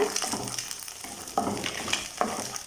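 Garlic and a single chopped green chili stir-fried in a pan for fried rice, with a steady crackling sizzle and a few louder stirring scrapes at irregular moments.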